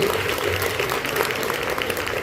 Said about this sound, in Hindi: ताली बजाकर प्रभु के नाम से